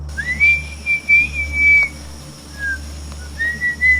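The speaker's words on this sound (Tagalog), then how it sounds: "Pasipol-sipol pa nga siya, pampatanggal kaba." A person whistles a few short, wavering notes with pauses between them, clear and close over a low steady hum.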